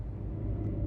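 Low, steady turbocharged 2.5-litre engine rumble from a 2025 Hyundai Santa Cruz Limited pickup with all-wheel drive and wet dual-clutch transmission, heard from inside the cab as it sets off on a road drive, continuous and fairly close.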